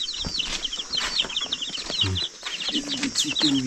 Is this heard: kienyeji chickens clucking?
yes